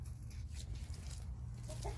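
Lohmann hens cluck and murmur on a farm, a steady low flock sound close by, with no voices over it.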